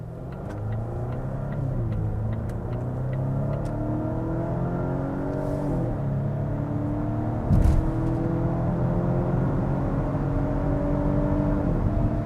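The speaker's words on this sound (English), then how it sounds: "put it into Polestar mode because it's entertaining when you are in Polestar mode and you're on back road." A Volvo V60 Cross Country in Polestar mode pulls along a back road, its engine droning steadily with rising and falling pitch as it downshifts and holds gears, a continuous close interior rumble with no talk.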